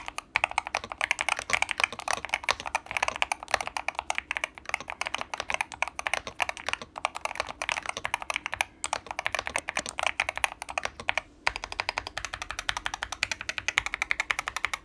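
Rapid, continuous typing on a BOYI 66Pro mechanical keyboard with magnetic switches, crisp clacky keystrokes in a steady stream, close up with no talking.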